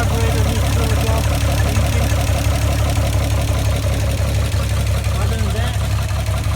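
A 1960 GMC truck engine idles steadily up close after sitting unused since 1999, a loud continuous rumble with a slight uneven knock and no pauses.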